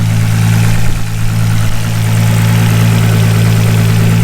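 A built 700bhp Nissan Skyline R33 GTS-t with a loud exhaust drones steadily at low revs, a heavy, constant rumble heard up close and loud throughout, no voices.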